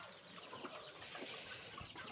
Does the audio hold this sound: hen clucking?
yes